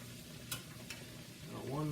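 Pork chops frying in a pan as they are turned over, a steady low sizzle with two brief clinks near the start, growing louder toward the end.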